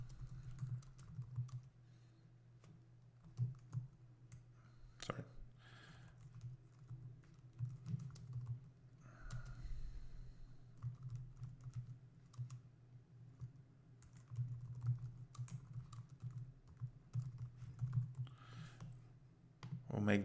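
Faint, quick clicks of a computer keyboard being typed on at a desk, scattered irregular taps over a low steady hum, quiet and close, with no talking.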